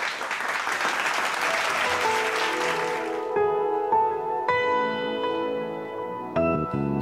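A studio audience at an Indian singing and rap talent show semifinal claps loudly to welcome a female singer from New Delhi, the applause giving way to sustained musical chords and bell-like tones.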